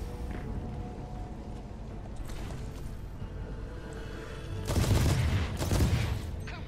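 Gunfire in the Titanfall 2 video game, with faint scattered shots building to a louder burst of rapid fire near the end over a low mechanical background hum.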